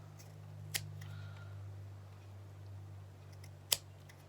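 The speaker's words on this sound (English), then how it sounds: "Now it's the time to trim up some of the loose" Scissors trim loose threads on a tassel made from dollar-store materials, giving two crisp, quiet snips about three seconds apart over a steady low hum.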